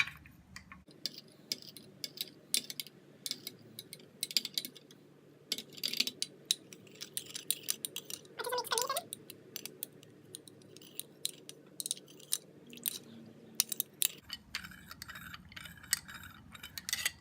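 A spoon mixes a hair-straightening treatment of warm milk and petroleum jelly in a bowl, giving quiet, irregular clinks and ticks against the container over faint background hiss.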